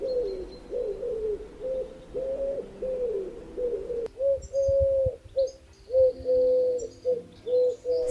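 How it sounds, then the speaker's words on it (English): Repeated three-note collared dove coos, a steady rhythmic series close by, with a faint chirp and a sharp click partway through. "just saying collared dove, collared dove, collared dove."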